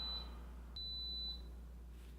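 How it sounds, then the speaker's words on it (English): Electronic device emitting a few thin high-pitched beeps, one long tone lasting about half a second among shorter faint ones, quiet in a still room over a low hum. "It's gonna beep for a second."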